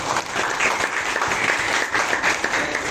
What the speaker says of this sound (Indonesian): Tepuk tangan untuk 11 TIP